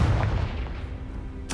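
A Confringo fire spell blast in the video game Hogwarts Legacy: a heavy, booming burst that rolls out low and loud, then decays into a rumbling tail with a brief bright crackle near the end.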